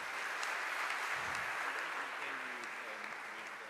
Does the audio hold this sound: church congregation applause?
yes